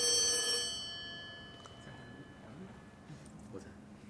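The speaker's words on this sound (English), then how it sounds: "A phone. That's her phone? Oh, it rings here like that? Oh, dang. Old school phone." An old-style telephone bell ringing briefly and loudly, then fading into a quieter room where people talk.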